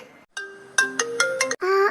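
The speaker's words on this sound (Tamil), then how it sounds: "ஃபோன் ஃபோன் சவுண்டு இங்க ஃபோன் இருக்கா" A mobile phone ringtone plays nearby as a short, bright melodic pattern of chiming notes, heard alone.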